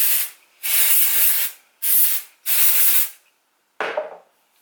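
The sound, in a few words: dry shampoo spray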